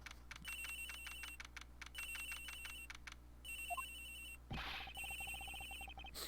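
A cell phone rings in the Ace Attorney Investigations game on an airplane, repeating rapid electronic trill bursts alongside light clicking, briefly broken by a soft thud before the ringing resumes.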